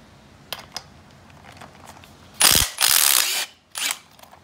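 A ratchet works a very tight bolt loose on a Yamaha YFZ450 ATV, with a few faint clicks and then loud, close bursts of rapid ratcheting, a short pause, and another burst.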